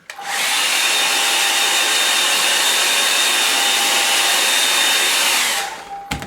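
A hair dryer blowing on a watercolour painting of sand dunes, starting up, holding a loud steady whir for several seconds, then switching off.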